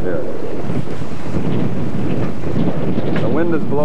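Strong gusting wind of 20 to 25 knots roars against the microphone aboard a boat anchored off a small island in Tobago Cays, loud and buffeting, with a voice speaking underneath.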